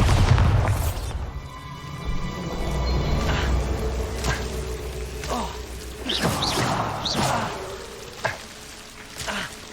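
A Bombarda explosion spell cast in Hogwarts Legacy, a deep booming blast followed by rumbling debris thuds and scattered game effects.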